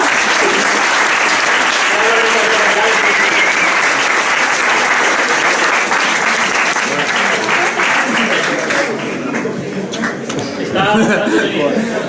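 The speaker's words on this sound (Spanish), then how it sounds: "un aplauso a este señor" Sustained applause from an audience honoring a man at a Spanish-language talk, dense and loud throughout, thinning slightly toward the end with some talk underneath.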